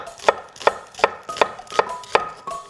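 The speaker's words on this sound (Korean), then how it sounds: "근데 썰으실 때 이렇게 뿌리 안쪽으로 칼을 이렇게 살짝 넣어서 이 부분 떼어내고 세로 방향으로 익히실 거라" A knife chops through an onion on a cutting board, six crisp, evenly spaced strokes landing about every 0.4 seconds, close and clear with no talk.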